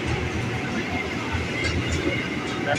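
An electric JR 205 commuter train rumbles and rattles nearby as it pulls into Manggarai station, with people's voices murmuring underneath.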